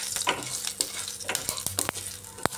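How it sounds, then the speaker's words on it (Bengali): Panch phoron whole spices frying in hot oil in a pan for a bottle gourd and prawn ghonto, steady close sizzling broken by several stirring scrapes, with no talk. "আর দিচ্ছি 5 ফোড়ন"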